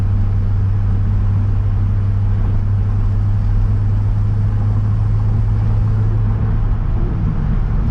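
A modified Chevrolet C6 Corvette cruises on the road with a steady, loud low engine drone and road rumble, holding an even pitch throughout with no voices.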